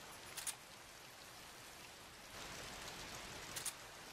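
Rain falls steadily in the jungle setting of the video game Metal Gear Solid 3: Snake Eater, a soft, even hiss that swells slightly partway through, with faint short clicks near the start and end.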